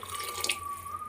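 Water pours steadily from a tap into a cooking pot for rice, a short, quiet, even stream with no voices.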